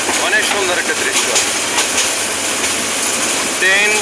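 A moving train during a train journey near the Bhawal Gazari forest in Bangladesh, a steady broadband rumble and rattle with faint clatter throughout, heard from inside or close by, with brief distant voices.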